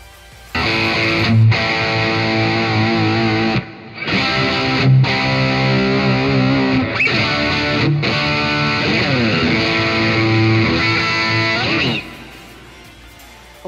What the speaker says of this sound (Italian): Sicuramente io ho aggiunto un riverbero